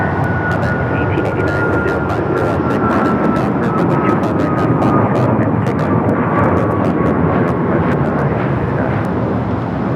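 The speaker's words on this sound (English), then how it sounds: "This is United Airlines 1621 taking off to Orlando, Florida on the MAX 9." A United Airlines Boeing 737 MAX 9 jet takes off at Los Angeles International Airport, its engines giving a loud, steady roar with a high whine running throughout, heard from nearby with some voices underneath.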